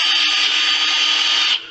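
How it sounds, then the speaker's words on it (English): A drill spins a 180-grit sanding pad against a spalted maple bowl, giving a loud, steady high whine that holds for over a second and a half before cutting off sharply near the end. "let's switch over to our rotary and over to the drill again"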